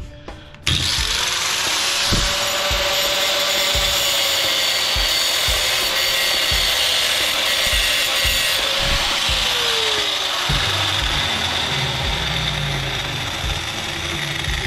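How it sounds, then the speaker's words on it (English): An angle grinder cuts a rivet off a piece of scrap brass, a loud, continuous metallic whine with a falling pitch that persists for most of the clip amid rattles. "Should we grind her off and see if we can get her off?"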